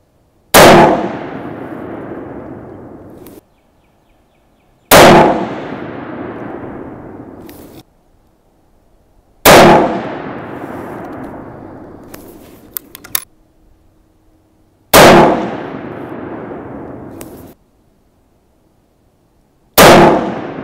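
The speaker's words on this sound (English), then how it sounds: "Now let's fire a five-shot group through here and see if it tightens up anymore." Five single rifle shots from an 1885 single-shot rifle with a new barrel, each a loud sharp blast with a long decaying echo, spaced about five seconds apart, with faint clicks of reloading between, no speech.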